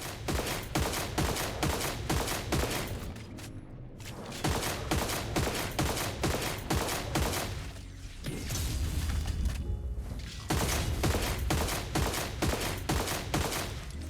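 Weapon fire from the video game Destiny Rising pours out in dense, continuous bursts of rapid shots and booms, loud and sustained with only brief lulls.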